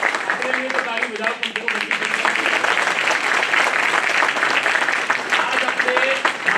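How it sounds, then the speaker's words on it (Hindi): Sustained audience applause from newly enrolled advocates at a Bar Council of Delhi enrolment meeting, dense steady clapping throughout with a voice speaking over it. "अपने लिए तो ताली बजाओ"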